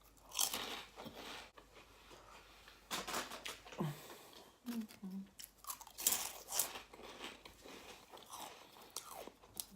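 Crunchy halloumi fries being bitten and chewed at close range, with scattered crisp crunches and scrapes in quiet bursts between soft pauses.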